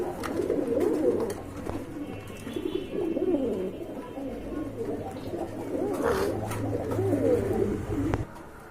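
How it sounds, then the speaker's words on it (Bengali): A pair of large Indian Mumbai breed pigeons coo repeatedly up close, their soft rolling calls continuing steadily with faint background noise. "এই যে দেখেন খুবই সুন্দর কোয়ালিটি কিন্তু মাশাল্লাহ অনেক বড় জুটির কবুতর"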